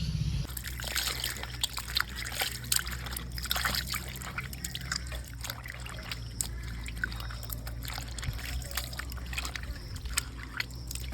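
Tap water trickles and splashes steadily while raw chicken is rinsed by hand at a home sink, with a continuous close wash of running water and small irregular sloshes.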